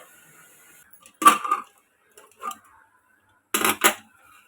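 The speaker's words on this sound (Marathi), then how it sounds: "आता आपण हे कुकर उघडूया" Metal clanks and scrapes of a pressure cooker lid being handled and lifted come in a few short bursts, close up, with no one talking.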